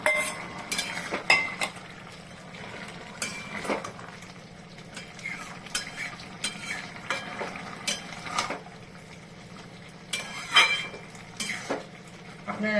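Eggplant fritters and pumpkin being added to a pan of frying chal kumro doga: metal utensils clink and scrape against the pot in irregular bursts over a low background sizzle.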